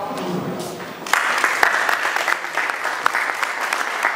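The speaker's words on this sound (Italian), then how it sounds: "facciamo un applauso." An audience at an awards ceremony, the Premio Internazionale Magna Grecia at the Mondello Palace in Palermo, breaks into loud, sustained clapping after about a second, with some voices talking before and through it.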